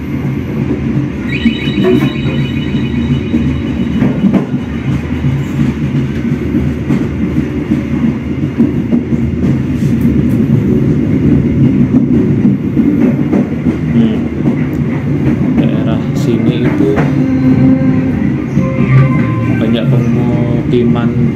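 KRL commuter train in Jakarta running between Rajawali and Jakarta Kota stations, a loud continuous rumble with rhythmic clickety-clack of wheels over rail joints, occasional squeals, and people talking over the ride.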